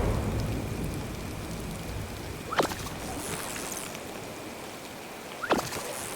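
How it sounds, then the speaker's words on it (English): Steady rain falls in the Stardew Valley video game, joined by two sharp thunder cracks a few seconds apart, all fairly quiet and with no voices. "'Cause it's raining, storming."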